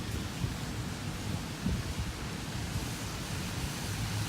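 Steady broadband rush of the waterfall at Thunder Falls in Dogwood Canyon, a constant even roar heard from a moderate distance without any voices.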